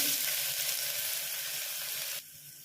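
Thinly sliced onion with cloves, cinnamon and shahi jeera sizzles loudly in two tablespoons of hot oil in a pan, a dense steady crackle that drops abruptly quieter near the end.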